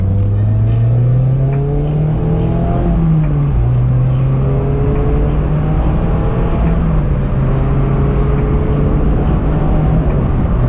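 A Mazda Miata engine drones steadily from inside the cabin, its pitch climbing and dropping as the manual transmission shifts gears during driving.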